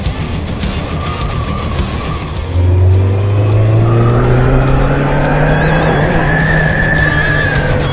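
A Honda CB 750 motorcycle riding on an open road, with a loud, close engine drone that rises steadily in pitch as it accelerates, over wind rush.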